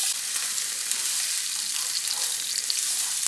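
Diced onion fries in hot oil in a preheated skillet with a loud, close, continuous hiss and fine crackle and a few small pops, with no talking.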